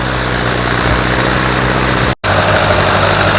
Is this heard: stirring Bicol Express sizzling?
no